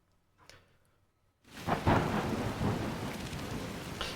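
Thunder and heavy rain from the storm stratum in the Donkey Kong Bananza video game: near silence breaks into a loud, rumbling downpour that holds steady to the end, with no talking.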